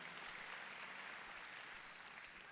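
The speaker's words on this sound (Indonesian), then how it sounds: "Beri tepuk tangan yang meriah buat Tuhan." A church congregation at an evening prayer service in Nginden applauds in a sustained, even burst of clapping that sounds fairly distant and quiet, with no voices over it.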